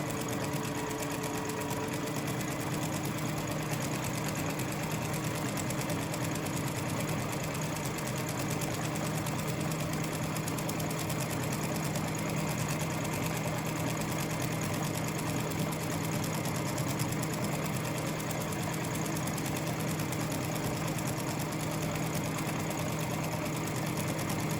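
A sewing machine runs nonstop, stitching a fleece rat cage mat with a steady straight stitch, a close, even rapid whirring and clatter that holds at one speed for the whole stretch, with no talking.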